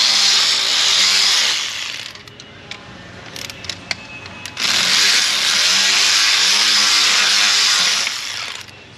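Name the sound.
power tool pulling wheel studs on Lexus RX400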